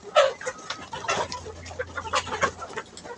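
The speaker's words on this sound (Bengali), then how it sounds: "প্রায় ৭০ পিসের মতো মুরগি আছে" Around seventy backyard Fayoumi chickens cluck and chatter nearby, short irregular bursts of calls overlapping one another, fairly quiet overall with a faint low hum beneath them.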